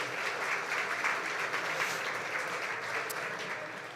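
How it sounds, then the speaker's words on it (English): Audience applause at a live-streamed community crowdfunding event, a steady wash of many hands clapping throughout, dense and even, fading slightly toward the end. "please give a round of applause to Oric"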